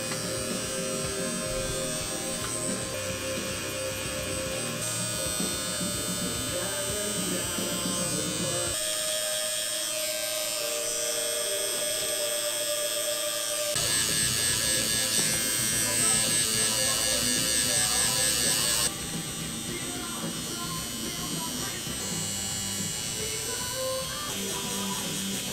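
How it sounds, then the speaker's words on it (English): An electric shaver buzzing steadily while a head is shaved, a continuous close hum under background music and people talking. "I'm probably gonna shave my head again."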